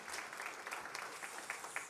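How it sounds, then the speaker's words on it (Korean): A church congregation applauding a visiting deacon from the Philippines during a Sunday service, a soft, distant patter of many hands clapping with a few sharper claps, fairly quiet and continuous. "예, 우리 박수하겠습니다."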